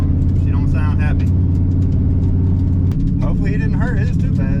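A car engine at a drag race idles rough and loud, with a throbbing, uneven note, while people talk over it nearby.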